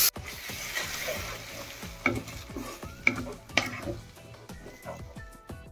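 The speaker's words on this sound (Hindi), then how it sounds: "टमाटो जीरा और धनिया पत्र जो पेस्ट बनी थी पकईदबा।" A paste of tomato, cumin and coriander fries and is stirred in a pan, giving a steady sizzle with scraping stirs and a few sharp clinks of a utensil against metal.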